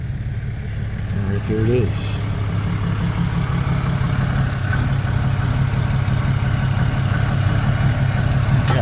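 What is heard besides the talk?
truck driving up alongside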